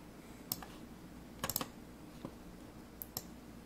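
A few quiet, sharp computer mouse clicks land in scattered pairs and small bursts against a soft room hiss while bones are selected in iClone animation software.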